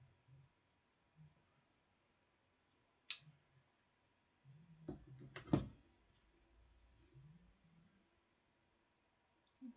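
Scissors snip through ribbon for a paper-craft autumn wreath frame, a few sharp close clicks and a brief rustling cut amid quiet handling noises.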